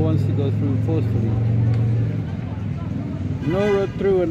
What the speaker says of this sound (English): No road through, another white car over there wants to go through.